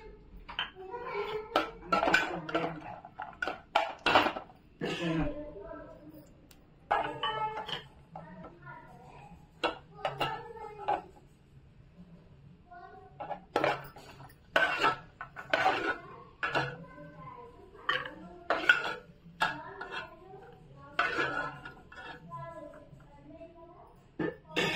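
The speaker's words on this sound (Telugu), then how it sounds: "డ్రై ఫ్రూట్స్ నెయ్యిలో వేయించుకుందాం।" Dry fruits fried in ghee in a pan for rava kesari, with repeated metal clinks and scrapes of a utensil against the pan in uneven bursts, close and moderately loud, alongside soft kitchen clatter.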